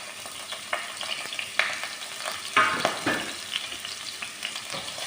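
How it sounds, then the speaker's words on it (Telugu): Onions fry in oil in a pot over a wood fire for a chicken dish, a soft, steady sizzle broken by irregular scraping stirs of a spoon against the pot, close up and without talk. "నూనె వేసినాము, ఎర్రగడ్డలు వేసుకుందాము."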